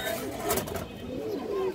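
Female pigeons cooing on a farm, a couple of soft, rolling low coos heard up close over faint background noise.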